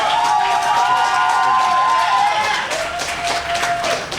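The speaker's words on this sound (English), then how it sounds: "please give a big round of applause to our champion on One Fair Wage, Mayor Brandon Johnson." Crowd at a Black Women's Pay Equity Day celebration applauds and cheers for a mayor, clapping and shouts mixed with talk and a few whistles, moderately loud and close.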